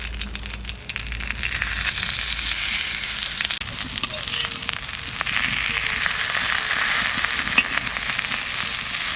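Egg patties wrapped in pumpkin leaves fry on an oiled griddle, giving a steady, fairly loud sizzle and crackle with faint scraping now and then, village-style cooking.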